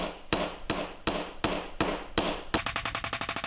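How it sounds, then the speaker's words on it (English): Ball peen hammer pounding a piece of steel to deform it for a DIY veneer cloud punch: six loud, evenly spaced metallic blows, then a fast run of about a dozen lighter, quicker strikes, close and ringing. "Take my ball peen hammer"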